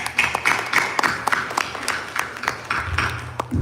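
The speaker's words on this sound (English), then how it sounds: "let's take time to applaud again for that" An audience at an Aradhana Mahotsavam celebration gives sustained applause, many hands clapping in a steady, dense patter that carries on for several seconds at moderate loudness.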